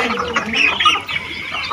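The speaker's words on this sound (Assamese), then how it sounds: "কুকুৰা আৰু ছাগলীও" Chickens in a farmyard cluck in quick, close bursts, short calls overlapping and rising and falling without any talk.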